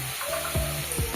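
Eggplant frying in a pan gives a steady close sizzle with crackling bursts, continuous through the short moment.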